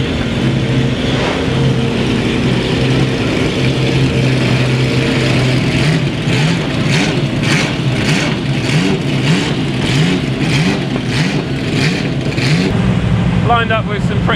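A Nissan Skyline R32 drift car from Driftworks idles loudly at Goodwood Speedweek, then blips its engine in a quick rhythmic series of sharp revs, close and dominant, lined up with classic Le Mans racers.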